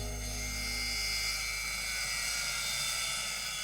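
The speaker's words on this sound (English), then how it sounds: "The two box turtles are ready to have their overgrown beaks trimmed down," A rotary tool grinds down the overgrown beak of a box turtle during a veterinary procedure, a steady high-pitched whine with an even buzzing hum running close and continuous throughout.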